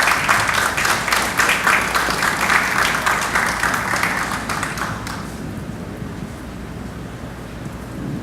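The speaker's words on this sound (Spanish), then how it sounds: "les pido un fuerte aplauso de bienvenida para nuestra conferencista" Dense, sustained applause from a conference audience welcoming a speaker at an educational innovation event, loud and even for about five seconds before fading into quiet room noise.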